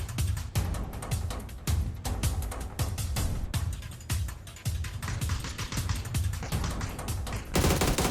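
Gunfire from the PUBG video game: dense, loud automatic bursts and rapid shots roll on without a break.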